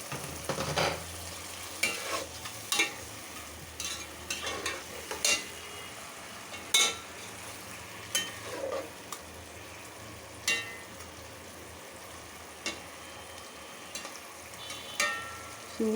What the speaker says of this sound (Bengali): শিং মাছটা কষিয়ে ওঠাবো